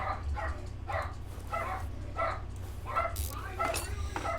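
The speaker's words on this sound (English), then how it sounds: "I apologize if you guys can hear my dogs. They're quite loud." Dogs bark in a steady run of about eight loud, evenly spaced woofs, close by, over a constant low hum from the Car Mechanic Simulator game.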